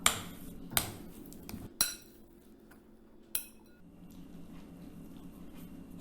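A spoon's back presses and mixes potato and spinach dough for egg-free gnocchi in a bowl, giving a few sharp clinks against the bowl at irregular intervals over a low, soft background.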